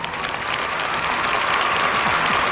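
Studio audience at a televised Vietnamese game show bursting into dense, steady applause, loud and continuous with a faint murmur of the crowd underneath.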